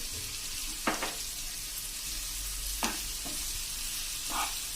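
Salted sliced onions fry in a pan for onion chutney, a constant, even sizzle close by, broken by three short scrapes from stirring.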